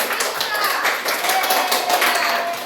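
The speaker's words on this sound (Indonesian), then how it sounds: "berikan tepuk tangan untuk kelompok" Classroom applause for a student group, a steady dense patter of many hands clapping together throughout, fairly close and even in loudness, with faint voices underneath.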